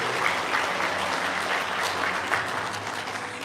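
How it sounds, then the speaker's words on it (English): At a police department promotion ceremony, the audience gives a round of applause for a sergeant, an even, sustained wash of clapping from a full room that holds steady throughout. "let's just please give him a round of applause"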